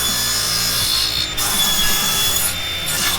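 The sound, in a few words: saw cross-cutting wood on a cross cut sled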